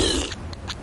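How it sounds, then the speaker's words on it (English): A brief, raspy cartoon burp from the 1987 Simpsons short, voiced by Bart, lasts under a second and is heard on its own. "are you burping again?"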